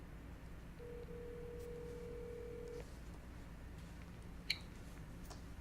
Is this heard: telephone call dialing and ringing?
yes